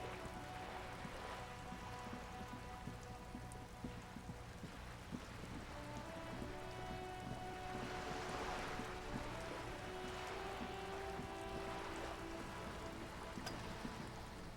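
Steady patter of rain falling on wooden boards and surrounding water in the Disco Elysium game, soft and continuous with a faint musical drone underneath and no speech.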